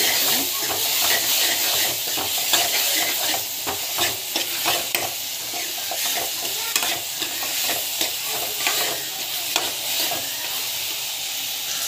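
Asafoetida sautéing in hot oil in a pan, a steady bright sizzle and hiss with frequent stirring scrapes running throughout, close and continuous, no voices.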